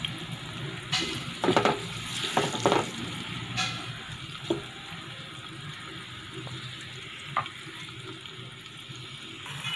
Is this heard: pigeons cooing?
no